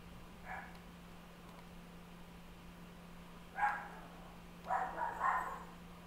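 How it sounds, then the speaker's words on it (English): Dog barking indoors, upset by thunder: faint, distant yips, one early and a cluster of two or three near the end, over a steady low electrical hum. "the dog does not like thunder"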